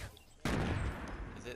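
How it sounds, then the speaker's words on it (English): A gunshot in the Fortnite Battle Royale video game, an abrupt loud burst partway through that stays dense and noisy afterward like rattling fire, with game chatter in the background. "Was that a shot?"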